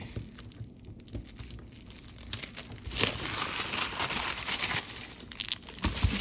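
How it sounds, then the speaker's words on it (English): Purple tissue paper crinkles and rustles up close as stickers are unwrapped, a dense, continuous crackling that grows louder and fuller in the second half. "It's just wrapped up all cute in purple tissue paper."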